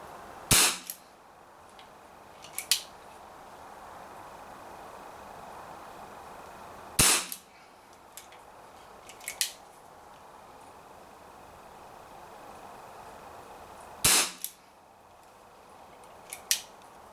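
A Borner 733 BB revolver fires at a tin can outdoors: three sharp, fairly loud shots spaced about seven seconds apart, each followed by a lighter metallic ping or clatter, over a steady low background hiss.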